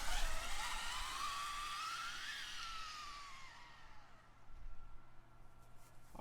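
Traxxas Slash 4x4 RC car, fitted with a 34-tooth pinion for speed passes, whining loudly at close range and sweeping in pitch as it spins out, then fading to a quieter, distant whir.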